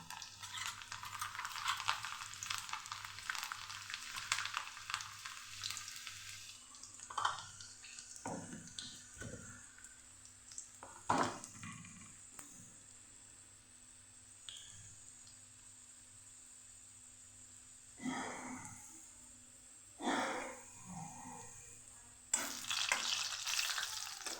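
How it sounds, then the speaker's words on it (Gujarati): Garlic cloves dropped into hot oil in a pan, crackling and sizzling steadily for a long stretch, with intermittent louder stirring scrapes and clatters breaking through. "તો અહીંયા આપણું તેલ ગરમ થઈ ગયું છે તો આપણે લસણની કડી ઉમેરી દઈશું"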